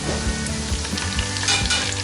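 Garlic and ginger frying with onions in hot oil, a dense steady sizzle with rhythmic stirring scrapes, close and loud with no talk.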